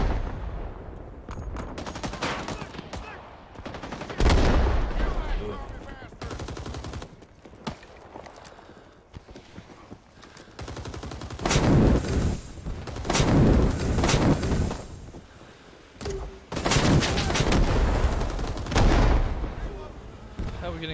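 Gunfire in the Vietnam War shooter Rising Storm 2, with heavy bursts of rifle and machine-gun shots and booming impacts in dense clusters, loud and close, as a voice talks between volleys.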